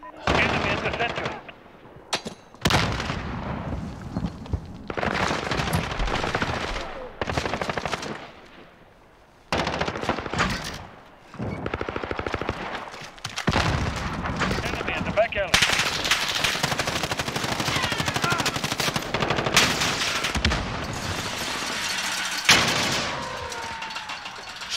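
Rapid bursts of automatic gunfire alternate with single shots and explosions during a Call of Duty: Modern Warfare multiplayer match, loud and close, with brief gaps between volleys and a dense sustained barrage toward the end.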